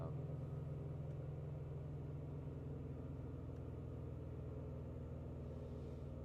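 A JDM AVCS EJ205 boxer engine idles in a Bugeye Subaru wagon with a rough idle, holding a steady low rumble throughout, close and continuous with no talking.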